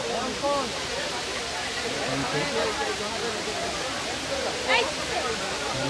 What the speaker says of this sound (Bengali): দেখতে পাচ্ছে উপর থেকে ঝর্ণা নেমে আসছে